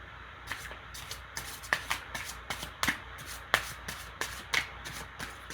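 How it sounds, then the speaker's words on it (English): A tarot card deck being shuffled by hand, with a quiet run of soft riffling bursts and crisp card snaps repeating at an irregular rhythm, close up and with no talking. "Hear me shuffling?"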